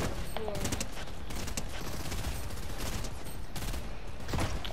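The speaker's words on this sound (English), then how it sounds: "How dare you shoot me" Rapid volleys of gunfire in a Fortnite match, dense and continuous over a steady game soundscape, with bursts clustering throughout and voices talking over the shooting.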